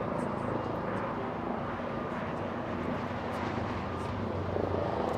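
An executive jet on approach to LAX with its landing gear down makes a steady, broad engine roar that holds at an even level throughout, with faint voices underneath.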